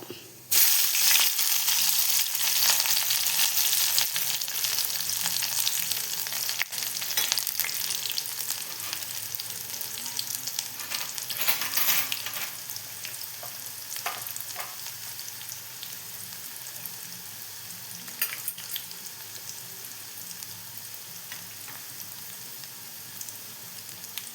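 Fenugreek seeds, shallots and curry leaves sizzle in hot oil for a Malayalam-style plantain moru curry, a loud continuous frying hiss up close that gradually settles, with occasional scrape and stir sounds.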